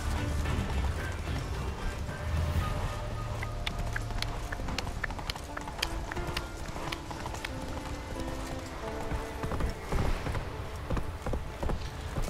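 Hooves of Roach, Geralt's horse in The Witcher 3, gallop in a quick, steady clip-clop rhythm on a mountain path, close and clear over low game ambience and occasional metallic clinks.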